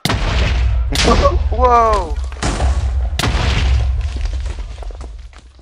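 Bombs exploding in the video game Bomb Buddies sound as several sharp synthetic booms spaced across the clip, loud and close, with a short rising whistle between them and a voice exclaiming briefly.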